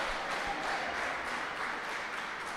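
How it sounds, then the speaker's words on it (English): Warriors fans at a basketball game keep up dense, steady clapping through the whole stretch, filling the arena as a continuous wash of sound with no clear talk. "The Warrior clap has seemed to have only grown louder here in the second half of the first half"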